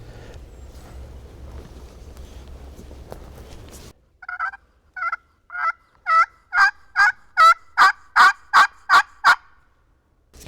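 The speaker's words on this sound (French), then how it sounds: "Un dindon" Wild turkey gobbling during a hunt, a rapid series of about twelve sharp gobble notes that build from faint to loud and close after a quiet rustling stretch.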